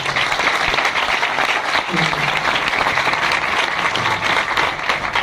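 Vigorous applause from a church congregation welcoming guests, steady and loud clapping throughout with faint murmuring voices underneath.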